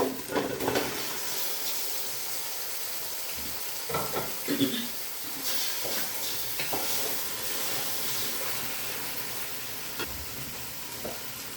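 Marinated country chicken drops into hot oil and fries with a steady, fairly quiet sizzle and hiss, broken by occasional stirring scrapes and clatters, while someone speaks over it.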